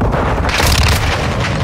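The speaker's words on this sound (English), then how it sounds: "Throwing flash grenade." A flash grenade detonates in a multiplayer team deathmatch shooter, a loud sustained booming blast filling the whole short moment with dense low rumble and hissy high-frequency noise.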